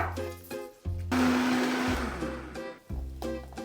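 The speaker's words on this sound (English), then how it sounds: "Right to blender." A blender whirs loudly in several bursts, its motor roaring up and dropping between pulses as it churns through chilies and liquid.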